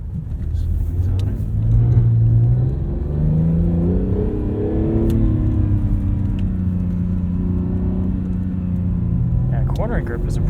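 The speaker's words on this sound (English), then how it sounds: "It's always nice driving a sports car in the snow compared to like an SUV or, you know, a normal sedan." An Acura NSX sports car accelerating on snow, its engine rising and falling in pitch as it pulls ahead, with people talking inside the cabin over the steady rumble.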